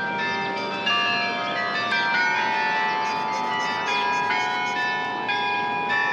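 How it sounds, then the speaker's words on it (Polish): Church bells in Gdańsk ring out a continuous melodic peal, several bells overlapping with a rich, sustained tone, steady and fairly loud throughout. "Byliśmy tam przez chwilę, akurat dzwony zagrały"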